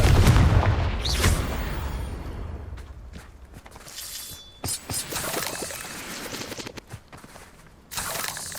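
Confringo blasting spells in Hogwarts Legacy go off as sharp explosive bursts, a loud boom at the start followed by several smaller crackling blasts and impacts scattered across the scene, with no speech.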